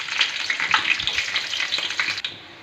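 Garlic sizzling and frying in hot oil with urad dal, a steady crackling hiss with small pops and stirring, close and fairly loud throughout.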